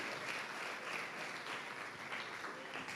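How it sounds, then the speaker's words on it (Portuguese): A church congregation at a thanksgiving service claps in praise, a steady, even mass of clapping sustained across the whole stretch at moderate level, with no speech on top. "Fica de pé e aplauda o Senhor"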